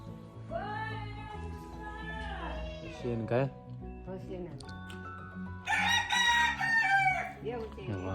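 A rooster crows loudly nearby, its drawn-out call rising and falling, while people talk and other voices chatter around it.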